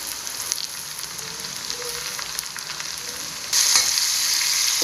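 Ten to fifteen onions go into a hot pan for a Hawaiian crab roast, frying with a loud continuous sizzle and stirring scrapes that jump sharply louder near the end.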